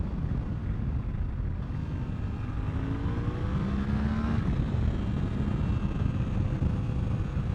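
An adventure motorcycle engine, a Suzuki V-Strom 800 or Honda Transalp 750, drones loudly under heavy wind rush, its pitch sliding down as it downshifts and slows.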